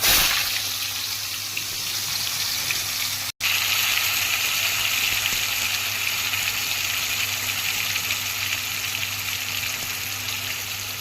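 Frozen hash brown patties sizzle in hot oil in a kadai, a steady loud crackling hiss that runs unbroken except for one brief cut.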